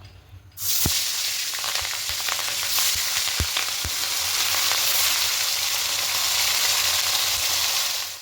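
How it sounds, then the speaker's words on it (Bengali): Fish drops into hot mustard oil in a wok and a loud, steady sizzle takes over, crackling continuously with a few soft clinks and taps. "এবার কড়াইয়ে সরষের তেল দিয়ে তেলটা খুব ভালো করে গরম করে নিয়েছি। এবার মাছগুলো একে একে ছেড়ে দেব।"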